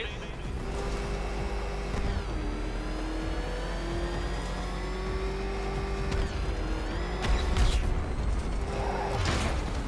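Batmobile engine in Batman: Arkham Knight, a sustained mechanical drone with rising and falling whine as it revs, loud and continuous, building toward the end, with a voice speaking over parts of it.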